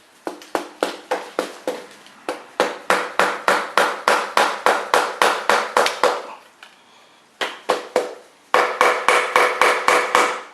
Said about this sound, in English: So see if I give it a little tap.